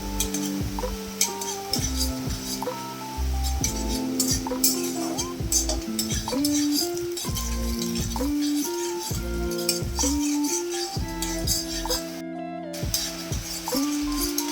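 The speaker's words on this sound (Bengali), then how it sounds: "নারকেল আর বাদাম ভালো করে ফ্রাই করে নেবো" Chopped coconut and peanuts fry in a pan for Bengali aloo chop, with steady stirring and scraping, clinks of a utensil against the metal, and a soft sizzle running throughout, close and fairly loud, with no talk.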